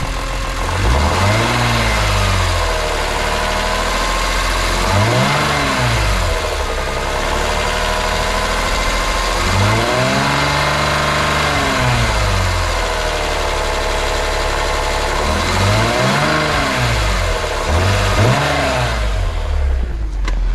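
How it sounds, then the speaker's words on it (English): A BMW E46 M3 S54 engine idles steadily with a metallic VANOS rattle and a whirring tone that rises and falls in repeated swells, close and continuous throughout. "I'm fairly confident that is the beginnings of a Vanos rattle"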